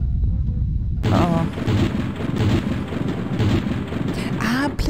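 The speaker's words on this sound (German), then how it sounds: "Ah, Blitze. Sieht nach einem großen Sturm aus." A thunder-and-lightning storm in the point-and-click adventure game Day of the Tentacle breaks in suddenly with a loud crackling rumble that continues over game music.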